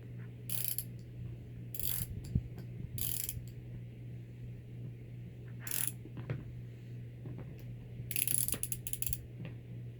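Bursts of metallic ratcheting clicks come and go in several short spurts over a low steady mechanical hum, nearby and moderately quiet.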